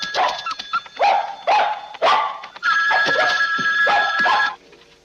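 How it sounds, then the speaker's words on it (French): A small pet dog barks excitedly while running around the house, a burst of sharp yipping barks in quick irregular succession, close and loud, with a telephone ringing underneath. "il court dans la maison en aboyant comme un cinglé"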